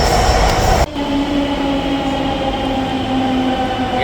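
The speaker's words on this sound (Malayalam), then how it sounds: "അങ്ങനെ നമ്മളെ മെട്രോ വന്നിരിക്കുകയാണ്." A Delhi metro train arriving at a station rumbles loudly and steadily at close range, with faint metallic whining tones running through the roar.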